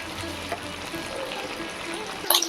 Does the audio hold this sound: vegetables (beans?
yes